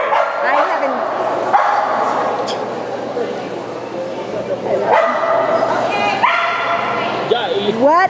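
A dog barks and yips in quick bursts close by, with whimpering between them, heard outdoors on an agility-style course with a tire jump, while people talk over it.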